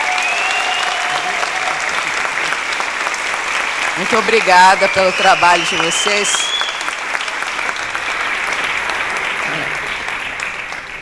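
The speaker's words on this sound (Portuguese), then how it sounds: "Eu queria uma salva de palmas para todas essas pessoas." Applause from a festival talk and book-launch audience for the event staff, a broad steady clapping that carries throughout while someone speaks over it.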